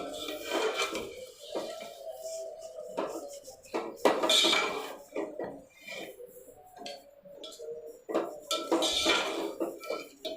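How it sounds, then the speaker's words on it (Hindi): Mutton being roasted over a high flame in a pot with whole garam masala, cinnamon among it, for degi biryani, with irregular clinks and scrapes of a spoon against the metal coming and going at moderate volume. "और अब हम इसको थोड़ा सा गोश्त को भुनेंगे।"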